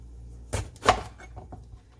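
Knife chopping green onion on a cleaned cutting board, two crisp close strikes followed by a couple of softer taps, spaced unevenly in a quiet kitchen with no talking.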